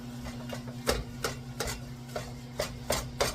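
Italian sausage browns in a pan on a stove while being stirred, giving repeated scraping strokes roughly every half second over a steady low hum and faint sizzle, close and moderately loud.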